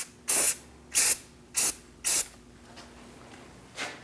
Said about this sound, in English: And put a little anti-seize on the hub.